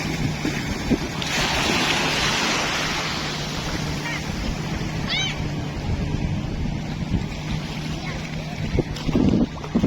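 A jet ski engine drones steadily over surf and wind noise at a beach in Aceh Barat Daya, Indonesia, with people talking nearby throughout.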